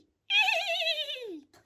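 A human voice imitates a horse's neigh, one short whinnying call that rises bright and wavering, then slides down into a low trailing end, clear and close against silence.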